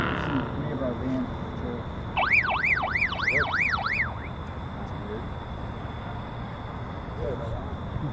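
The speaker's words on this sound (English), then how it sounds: "I leaned on the radio somehow. I had no idea I had an alarm like that." A radio alarm in a hot air balloon gondola sounds a rising-and-falling whooping tone, repeated about five times over two seconds, loud and close above a constant background roar, with a voice speaking briefly.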